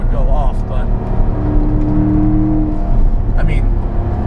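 A 600 hp Magnuson-supercharged C7 Corvette Z51 accelerates hard, its engine roaring loudly from inside the cabin with rising, layered harmonics and a sustained supercharger whine, while a person talks over it.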